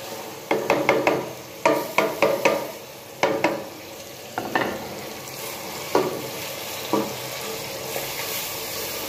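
Onions fry in a pan as garlic ginger paste goes in, giving a soft steady sizzle broken by a series of sharp clacks and scrapes from stirring, close by and with no talk.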